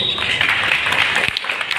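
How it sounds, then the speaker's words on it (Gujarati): An audience at a Kshatriya Rajput community gathering in Surat applauds to welcome the elders, a dense, loud wash of clapping that is sustained throughout. "આ વડીલોને પણ આપણે તાળીઓથી વધાવીએ"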